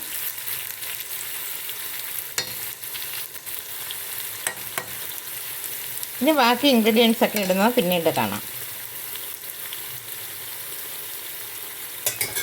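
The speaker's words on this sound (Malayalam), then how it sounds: "അത് രണ്ടും കൂടെ ഒന്നിച്ചിട്ട് വറയാക്കുകയാണ്" Chopped onion, garlic and four green chillies frying together in oil, a continuous soft sizzle with occasional stirring clinks, interrupted midway by a few seconds of speech.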